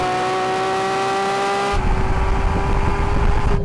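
A Porsche 911 GT3 RS accelerates hard in a drag race against a Lamborghini Aventador SV and an electric VW Beetle, its engine a steady rising whine that breaks into a loud, rough, close roar halfway through.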